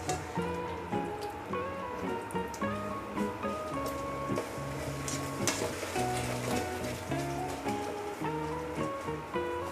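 Creamy chicken mushroom sizzling steadily in a pan while being stirred, a continuous crackling fry with light scraping and a faint tonal hum underneath, fairly quiet and close, no talking.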